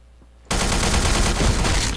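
Rapid automatic gunfire in a first-person shooter video game, bursting in suddenly after a quiet moment and continuing as a dense, loud, sustained stream of shots.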